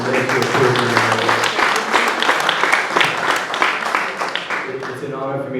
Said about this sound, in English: a big round of applause for the Ministry of Tourism